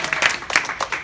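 A crowd at a seventieth birthday celebration claps in a brief burst of dense, overlapping applause that sounds close and fairly loud.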